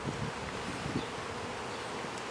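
Honeybees swarm a beehive opened for inspection, giving off a dense, steady buzzing hum throughout with no voices.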